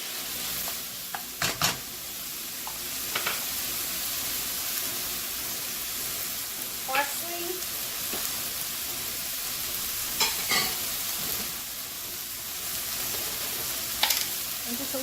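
Sun-dried tomatoes sizzle steadily in an oiled frying pan, with scattered clinks and scrapes of stirring rising above the continuous frying hiss.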